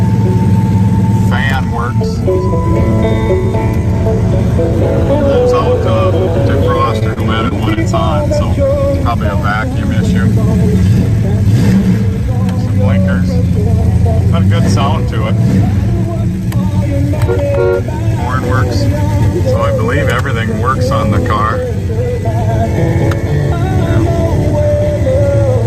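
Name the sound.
1973 Plymouth Satellite 318 V8 engine starting and revving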